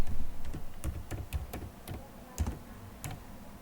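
Keys clatter on a computer keyboard in quick, irregular bursts of sharp clicks, close and fairly quiet, with a pause of a few beats partway through and no voices.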